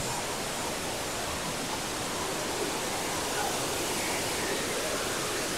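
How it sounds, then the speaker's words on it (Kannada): A waterfall in Coorg pours over rocks, giving a dense, steady roar of falling and flowing water that fills the scene at constant loudness. "ನೋಡಿ ಇಲ್ಲಿಂದ ಬೀಳೋ ನೀರು ಹಿಂಗೆ ಹರ್ಕೊಂಡು ಹಿಂಗೆ ಹೋಗುತ್ತೆ"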